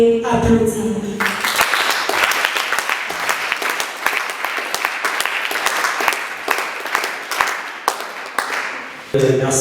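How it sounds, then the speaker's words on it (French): An audience at a conference on dissertation writing claps for a speaker, with a voice briefly at the start before a sustained, dense round of applause that ends abruptly as speech resumes. "est-ce qu'on peut applaudir?"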